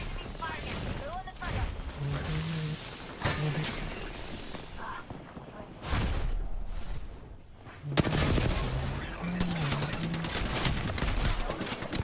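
Video game gunfire crackles in repeated rapid bursts and single shots amid other game effects and music, with people talking over the action throughout.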